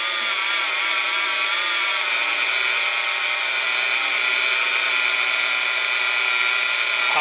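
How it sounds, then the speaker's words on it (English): Small handheld rotary polishing tool working on a pubic hair keychain, a loud continuous high-pitched grinding whine that holds steady throughout. "Polishing my pubes for Jessica."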